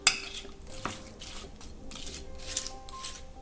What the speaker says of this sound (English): then you're going to mix all the ingredients together